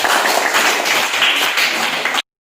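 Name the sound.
classroom applause for a student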